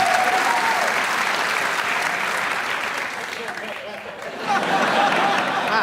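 Studio audience applause on a late-night talk show fills the room, loud and steady, dipping briefly before swelling again, with a voice speaking faintly underneath.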